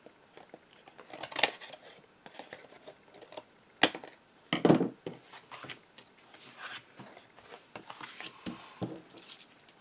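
Scissors cutting paper scraps for a decorative craft: a few quick, crisp snips and clicks close by, scattered among quieter rustling and handling noises.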